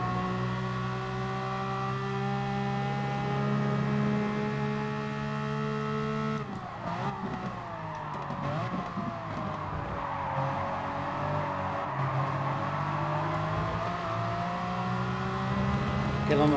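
A race car engine at full throttle in Gran Turismo Sport holds a steady, droning tone, then its pitch wavers and slides as it shifts, running loud and continuous throughout.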